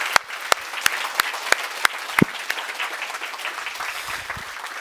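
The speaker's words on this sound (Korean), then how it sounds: "그분께 감사의 박수 드리겠습니다" A church congregation at an Easter Sunday service applauds, sharp individual claps ringing out at first in a loose, slightly uneven rhythm before blending into a softer, steady patter of hands.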